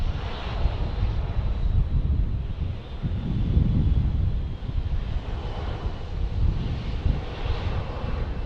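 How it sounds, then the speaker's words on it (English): A Cessna airplane engine drones steadily before takeoff at Dallas Love Field, heard from a distance as a low rumble mixed with gusting wind noise. "Cessna looking like it's going to be taking off here in a second."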